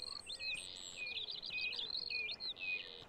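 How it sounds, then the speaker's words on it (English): Birds sing repeatedly in a quiet countryside setting in North Norfolk near a fishing spot, with bright chirps and warbling phrases continuing steadily throughout, moderately distant and with no talking. "You can hear the bird song."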